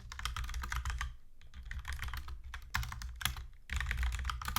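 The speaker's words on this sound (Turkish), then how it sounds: "Command K'ya basıyorum ve burada direkt bu satırda yapmak istediğim şeyi yazıyorum" Rapid typing on a computer keyboard while entering a prompt in the Cursor AI code editor, dense clicking keystrokes in close bursts with a brief pause midway, no voice over it.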